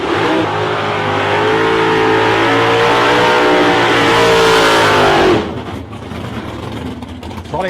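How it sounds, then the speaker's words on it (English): A drag racing car doing a long burnout in lane 1 at a drag racing final, a loud sustained high-revving engine roar with screeching tyres that cuts off abruptly, followed by a lower idle and distant crowd noise. "Probably a 30-metre burnout there for Pete Zokas in the lane 1."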